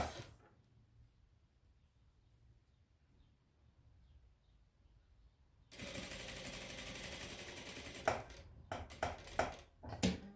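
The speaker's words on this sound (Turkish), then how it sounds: "Tam bir makine ayağından dikiyoruz." A sewing machine stitches a square collar, starting after a quiet stretch with a close, steady mechanical whir that breaks into short bursts of stitching near the end.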